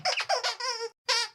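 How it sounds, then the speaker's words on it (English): A Jack Russell Terrier's squeaky polar bear plush toy squeezed rapidly, several sharp rubbery squeaks in a quick burst, a short gap, then one more squeak, loud and close. "He's still loving his squeaky polar bear birthday present, as y'all can hear"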